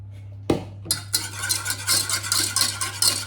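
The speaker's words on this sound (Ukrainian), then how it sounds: "Змішую з водою." Two egg yolks and 100 ml of water are stirred briskly in a small thick-bottomed pot, a utensil scraping and clinking in rapid, uneven strokes over a low steady hum.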